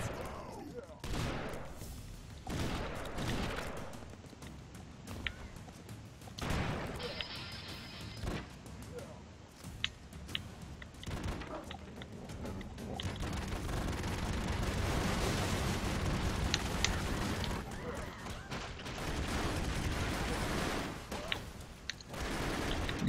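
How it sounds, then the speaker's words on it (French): Video game Broforce plays a dense barrage of explosions, crashes and rapid gunfire, loud and continuous throughout, with a person's voice talking over the action. "Zut, ça a explosé."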